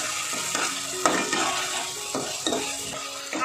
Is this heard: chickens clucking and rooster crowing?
no